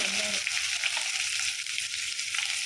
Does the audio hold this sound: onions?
yes